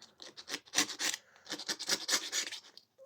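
Resin being scraped off the blade of a STIHL HS 45 hedge trimmer, a close series of quick, rough rasping strokes in two bursts separated by a brief pause, with no talking.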